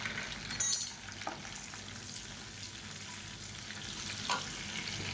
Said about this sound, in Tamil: பச்சை மிளகா லேசாக வதங்க ஆரம்பிக்கவும்